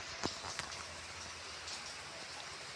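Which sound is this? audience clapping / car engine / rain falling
rain falling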